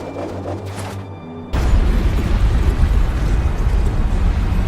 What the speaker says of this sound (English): Exploding!